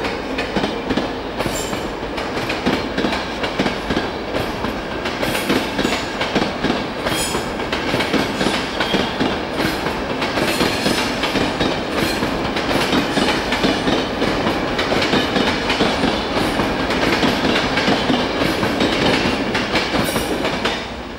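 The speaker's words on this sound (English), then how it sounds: "Class 91s on East Coast mainline trains are, of course, the principal trains here" A British Rail Class 91 electric train runs on the East Coast main line, a loud, steady rush of wheels and rail noise with rhythmic clickety-clack beats throughout, close by.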